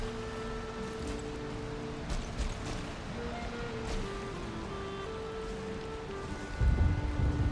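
Steady rain falls in Valheim, a constant hiss under soft sustained game music, with a heavier surge of noise near the end.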